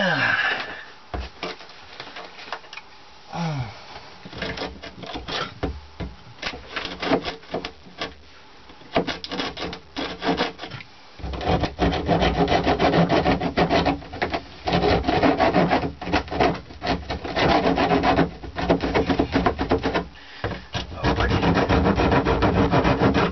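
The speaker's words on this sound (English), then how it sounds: "I get my trusty Leatherman saw," A Leatherman folding saw cuts wood by hand inside an RV, giving a close, steady, raspy back-and-forth scrape that is sparse and halting at first and then becomes continuous, vigorous strokes.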